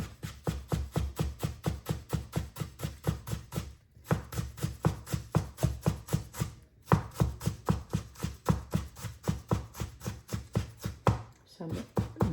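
A knife cuts ginger into thin julienne strips on a cutting board, making rapid, regular chopping taps in quick bursts, with two short pauses between runs.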